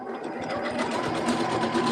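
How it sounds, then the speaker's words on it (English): A sewing machine stitches fabric at a fast, steady whirring rhythm, close and continuous for the whole stretch with no talking. "let's go and sew them"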